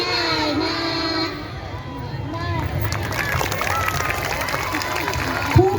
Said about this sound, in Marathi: खूप छान, जोरदार टाळ्या